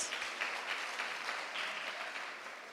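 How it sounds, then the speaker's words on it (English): Steady applause from a crowd at a national debate championship final, a dense continuous patter of clapping held at an even level throughout, with no voices standing out. "Please give her a bigger round of applause."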